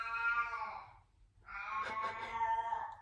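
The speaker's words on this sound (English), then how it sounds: "I'm sorry, this is my cat," A pet cat meows indoors near the microphone, a long drawn-out call, a short pause, then a second wavering meow, fairly loud and alone.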